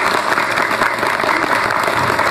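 Studio audience applause at an Islamic religious talk show, a loud, dense, continuous burst of clapping from a large crowd filling the whole moment.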